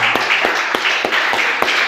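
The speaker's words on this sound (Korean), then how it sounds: "우리 박수 한번 쳐줍시다" A church congregation claps together to honor members with perfect attendance. The clapping is steady and rhythmic, and no one speaks.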